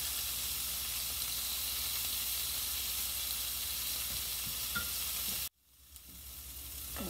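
Smoky sausage and pork sizzle steadily in a frying pan while being stirred, a loud continuous fry that cuts off abruptly near the end, leaving a faint quieter hiss.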